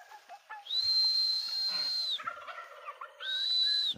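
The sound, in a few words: broad breasted turkeys gobbling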